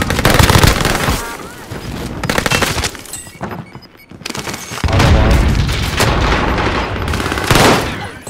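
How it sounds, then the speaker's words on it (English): Gunfire in a video game shooter match on an island map, loud impacts and booming shots in bursts, with players talking over the action. "Dude, that kid is shooting my feet"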